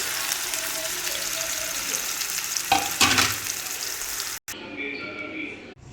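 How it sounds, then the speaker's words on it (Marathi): Amla paste sizzles as it is stirred into hot ghee in a pan, a loud close frying hiss with stirring scrapes, and a brief break near the end as someone talks over it. "आता याच्यामध्ये मी जो आवळा मिक्सरला बारीक करून घेतला आहे पेस्ट तो टाकून घेते"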